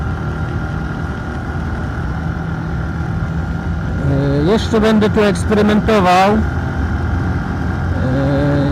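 A Zontes motorcycle engine idles steadily and close throughout, with someone speaking over it partway through.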